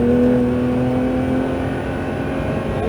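A Porsche 911 GT3 (992) on the track at the Castellet driving center pulls at full throttle, its engine a loud, steady, close-up drone with a strong tonal whine that holds and shifts slightly, with no voices over it.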